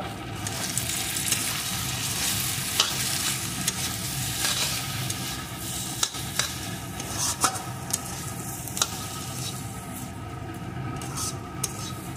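Mustard oil being stirred and mixed into eggplant bharta, a soft, steady scraping and mashing texture with occasional sharper clicks of the utensil, continuous throughout at a moderate, even level.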